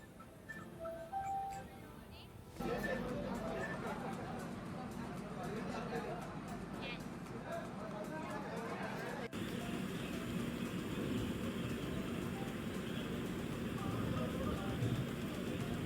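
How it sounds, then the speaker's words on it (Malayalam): Busy railway station in West Bengal, with steady platform crowd noise, shuffling, clinks and distant train rumble throughout, loud and continuous, with scattered voices in the mix. "നമ്മളിപ്പോൾ എത്തിയിരിക്കുന്നത് വെസ്റ്റ് ബംഗാളിലുള്ള റെയിൽവേ സ്റ്റേഷനിലാണ്"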